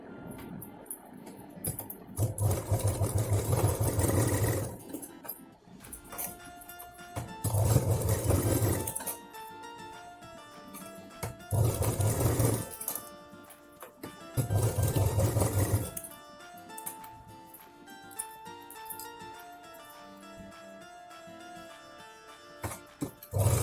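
Sewing machine stitching a pocket for a ladies' handbag, running in several loud whirring bursts of a few seconds each, separated by quiet pauses filled with faint handling clicks and background music.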